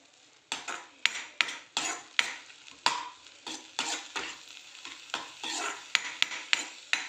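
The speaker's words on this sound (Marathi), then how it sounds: "किंचित हळद आणि कोथिंबीर मिक्स करून घेऊया" A spoon scrapes and clatters in a pan as a little turmeric and coriander are stirred into a spicy patodi bhaji. The strokes are quick, rhythmic and near, with no talking.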